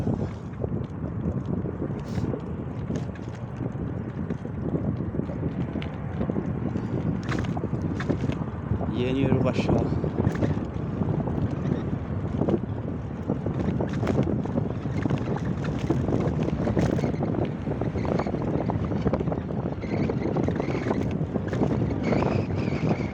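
Steady headwind roars and buffets against the microphone while cycling, a constant rushing noise, with a brief spoken phrase partway through.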